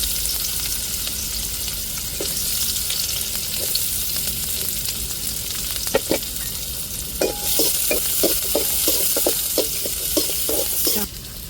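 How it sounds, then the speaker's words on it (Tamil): Onions frying in hot oil for a pasta dish, a loud, steady sizzle with scattered scraping stirs and a run of spoon taps against the pan in the second half. "இப்போ கட் பண்ணி வச்சுருக்கிற வெங்காயத்தை சேர்த்துக்கிறோங்க எண்ணெயை ஊற்றி நல்லா சூடேறிட்டு வெங்காயத்தை நல்லா வதக்கிக்கிடுவோம்"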